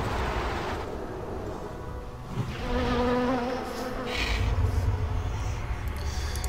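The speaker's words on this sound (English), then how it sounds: "for this we're going to first start off with Swarm of Flies" Swarm of Flies attack from a World of Warcraft pet battle in the Celestial Tournament: a dense, continuous insect buzzing drone at steady loudness, swelling slightly midway with game effect sounds layered over it.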